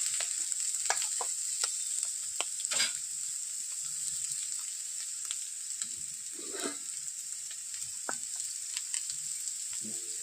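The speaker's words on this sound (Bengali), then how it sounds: "ভাজা হয়ে গেছে, এবার সরষে বাটাটা দিয়ে জল দিয়ে দেবো।" Mustard paste and water going into vegetables frying in a pan, giving a steady close sizzle with scattered pops and stirring clinks throughout.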